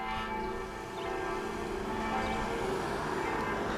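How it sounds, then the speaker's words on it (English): Bells of two churches ring steadily in the distance in Switzerland, their tones blending into a wash of outdoor ambience with no voices. "Both the bells on both churches are ringing."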